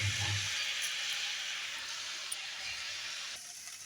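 Washed Gobindobhog rice tipped into a pan of spiced winter vegetables for bhoger khichuri, giving a steady, fairly quiet hiss and sizzle that fades slightly toward the end.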